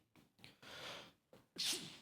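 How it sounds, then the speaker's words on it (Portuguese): A man sneezes close by, short gasping intakes of breath building up to one sharp, breathy sneeze. "Quase saiu um espirro."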